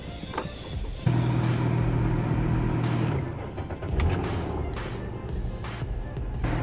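A 2004 Nissan Maxima with a damaged front tire being driven out onto solid ground: a steady engine hum and low rumble rising as it pulls away, fairly close and continuous.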